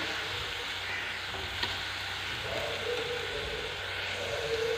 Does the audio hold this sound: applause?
no